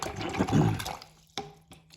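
A watercolor brush swished and rinsed in a water container, giving a soft close sloshing burst, a brief quieter lull, then a couple of small splashy taps.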